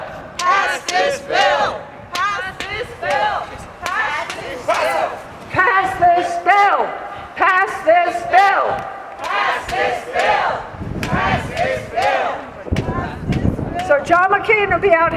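An activist crowd at a climate rally chants in loud rhythmic bursts, many voices shouting the same short phrase over and over, each repetition punctuated by brief pauses and a few cheers.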